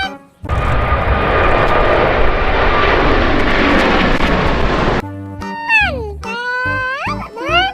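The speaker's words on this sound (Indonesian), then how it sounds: "ada pesawat terbang yang asli mau lewat." A real propeller airplane roars past overhead, a loud sustained engine drone for several seconds, then cuts to bright synthetic whooping tones and voices.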